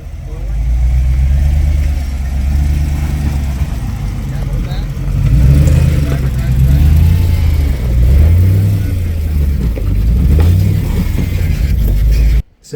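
A Jeep on 40-inch tires crawls over a rock garden high-center section. The engine drones in a low, rumbling, surging tone throughout, rising and falling with the throttle, with talk over it before cutting out at the end.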